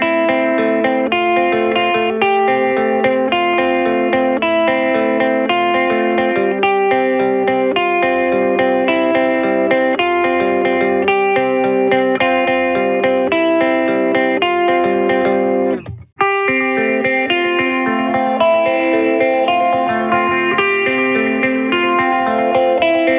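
Electric guitar played through a Boss Katana amp preset, a continuous effects-laden tone with distortion and chorus shimmer, dense and loud, cutting out abruptly for an instant partway before resuming.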